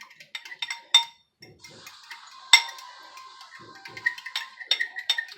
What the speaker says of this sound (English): Just melt it, and then you're just going to mix it all up